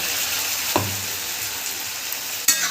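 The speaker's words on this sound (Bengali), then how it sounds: "দিয়ে এটাকে বেশ কিছুক্ষণ ধরে নাড়বো" Spice paste stirred into fried onions in a hot pan gives a steady, close sizzle, with two sharp scraping stirs standing out above the hiss.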